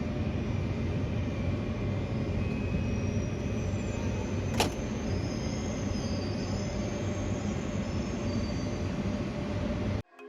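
A train leaving Lisbon rumbles steadily along the rails at close range, with a brief metallic squeal partway through and a soft high whine over the continuous low roar.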